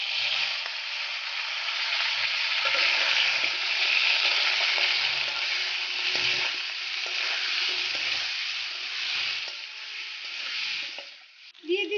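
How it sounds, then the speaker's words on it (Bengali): Potatoes frying in a kadai give a loud, close, continuous sizzle, with light stirring knocks and a short burst of handling at the end as spice paste goes in. "এবার এই মশলাটা কড়াইতে দিয়ে দেব। আলুগুলো লাল লাল করে ভাজা হয়ে গেছে"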